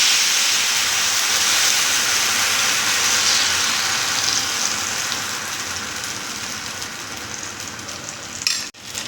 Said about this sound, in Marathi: असं हे बॅटर हलवायचं आणि नंतर असं कढईने सोडायचं.